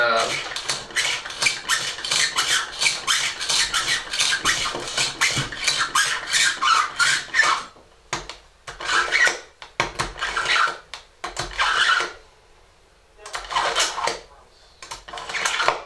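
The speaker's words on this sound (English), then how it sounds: "we're going to sharpen our knife. This is a knife sharpener" A kitchen knife drawn repeatedly through a knife sharpener, a rapid run of rhythmic metallic scraping strokes close up, then slower separate bursts of strokes with short pauses between them.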